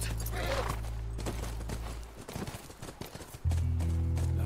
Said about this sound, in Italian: Quello è il nostro cavallo.